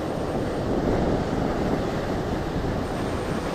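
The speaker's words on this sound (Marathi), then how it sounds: "आता मान्सून चालू असल्यामुळे समुद्र एकदम खवळलेला आहे" Rough monsoon sea waves pound the shore at a rod-fishing spot, giving a continuous dense roar mixed with wind buffeting the microphone, steady and loud throughout.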